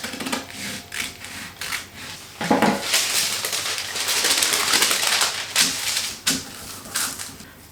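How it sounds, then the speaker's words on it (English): Scissors cut a circle of greaseproof paper sized to a pizza tray, giving close, irregular crisp snips and rustling paper crinkles in bursts, with no talking. "I'll just cut out my circle."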